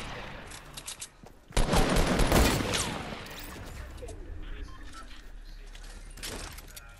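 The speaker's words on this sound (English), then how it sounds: "none of my bullets are hitting her" Gunfire in the video game Fortnite, a sudden loud burst of rapid shots that trails off into scattered quieter fire and game noise.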